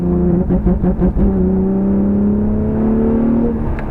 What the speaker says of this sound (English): almost instantly it activates the rolling anti-lag